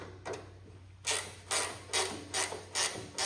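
A ratchet wrench backs out engine bolts on a Cub Cadet 782 lawn tractor with a Kohler KT17 engine, making a steady run of five or six loud, evenly spaced ratcheting swipes close to the microphone, alone.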